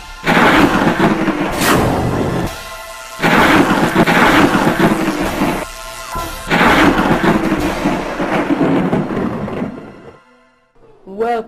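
Thunder striking in a dramatic scene, three heavy booming rumbles, each lasting around two seconds with short gaps between them, loud and close, fading into near silence before a final brief sound.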